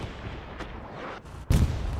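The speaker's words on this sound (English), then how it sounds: "I think it was just a turret shot from the P4." A Panzer IV tank fires its turret cannon in Hell Let Loose on Omaha Beach, with one sharp, loud blast near the end following a stretch of low, distant battlefield rumble.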